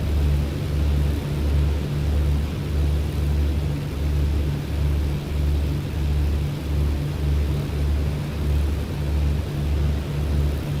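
Steady drone of a BN2 Islander's twin piston engines in flight, a loud continuous hum with a pulsing, rhythmic beat throughout and no voices.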